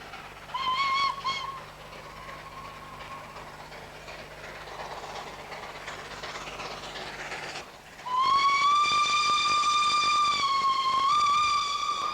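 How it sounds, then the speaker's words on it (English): LNER steam locomotive 3442 Great Marquis climbing an incline with a rake of Pullman coaches: a short whistle early on over a working rumble, then a loud, sustained chime whistle from the midpoint to the end. "LNER number 3442, the Great Marquis, makes a spirited attack at the incline as it approaches with a rake of Pullman coaches in tow."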